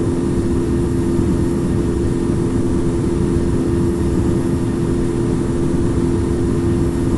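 Air France Airbus A318 jet engines roar loud and steady during the takeoff roll from Charles de Gaulle, a dense unbroken rumble heard from inside the cabin.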